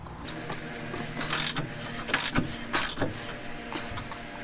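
A ratchet wrench turns the torsion bar adjustment bolt on a Dodge Dakota, giving a few bursts of quick mechanical clicking against a steady background hum, close by and with no one talking.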